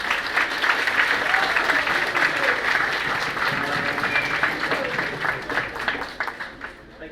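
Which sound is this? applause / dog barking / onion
applause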